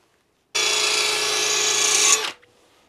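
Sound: drill spinning a sharpening stone on a mower blade

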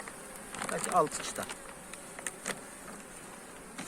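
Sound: honeybees buzzing at an open hive

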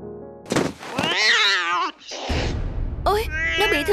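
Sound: cat meowing in a cartoon

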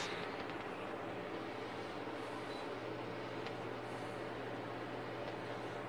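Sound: ceiling fan running

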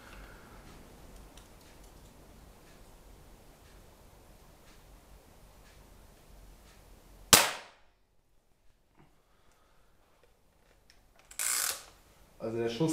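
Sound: air rifle pellet shot into ballistic gel

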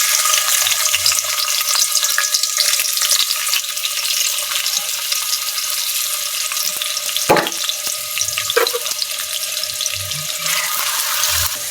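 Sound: whole spices frying in hot oil in a wok

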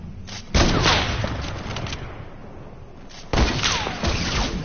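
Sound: sniper rifle gunfire in video game

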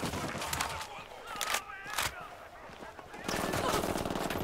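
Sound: gunfire from a PC shooter video game

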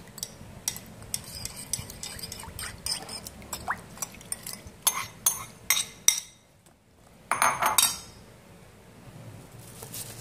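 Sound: mixing green papaya salad with dressing in a bowl

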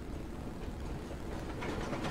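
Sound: train running in The Walking Dead episode

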